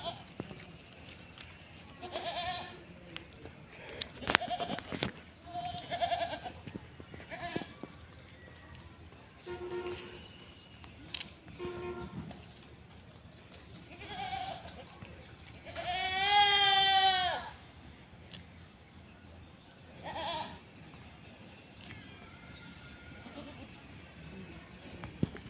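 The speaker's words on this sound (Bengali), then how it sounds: "ছাগলের বাবাইতেছে" Goats bleating in a rural yard, several separate cries scattered across the stretch, one long wavering bleat standing out loudly in the middle, with people talking intermittently in the background.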